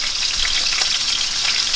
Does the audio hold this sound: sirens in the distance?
no